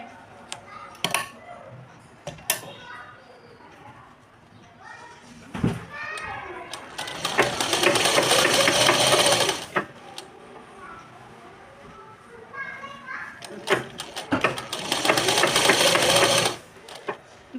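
Sewing machine stitching blouse pieces together, two sustained loud runs of rapid whirring stitches separated by handling clicks and someone talking between them.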